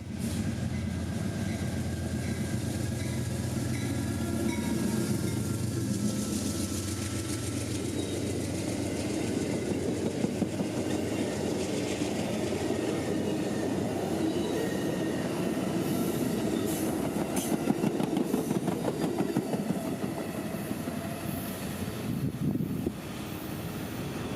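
Amtrak-style passenger train 91 departing past a road crossing in the Kissimmee, Florida area, a loud sustained rumble and wheel noise with occasional squeals and clicks as the cars roll by close, continuous for the whole stretch.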